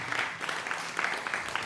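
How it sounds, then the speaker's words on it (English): Hands clap together in a short, lively round of applause for a hypnosis volunteer at an MIT demonstration, a brief, dense patter of many people clapping at once. "Big round of applause for"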